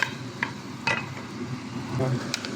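Butter melting and sizzling in a pan for a lasagna white sauce, a soft steady crackle with a few light utensil clinks over low background noise.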